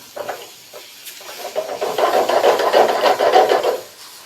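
Ridge gourd chutney ingredients scraped and stirred in a hot pan on low heat, with a rising sizzle and gritty rubbing strokes, close by and without speech.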